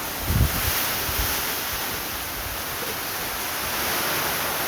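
Powerful typhoon winds during a Signal No. 4 storm in Saint Bernard, Southern Leyte roar steadily as a broad, continuous rush with a heavy gust buffeting the microphone near the start, no voices heard.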